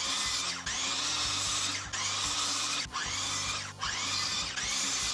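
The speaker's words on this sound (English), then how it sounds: "since we already have our miter saw set up from the 10-inch arms, we're just going to be able to cut these out" A miter saw cuts 30-degree bevels on wooden snowflake arms, giving a loud continuous whine with the blade's drop marked by several brief dips as successive cuts are made.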